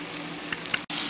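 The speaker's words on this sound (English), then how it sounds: "So the rest of it is just frying up the ham." Ham browning in a warped pan at a home breakfast stove, giving a steady close sizzle with a few brief crackling spurts and a short break before the frying noise returns louder.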